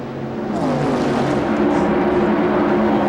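Onboard race car engine at the ARCA 200 at Daytona in 1996, camera mounted on top of the car, a steady loud drone with rising and shifting harmonic whine as it runs at speed.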